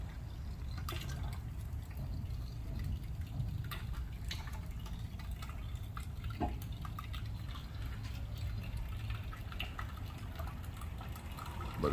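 Transmission fluid from a 1979 Cadillac Coupe DeVille drains into a bucket in a steady, faint trickle with scattered drips, continuous and soft throughout.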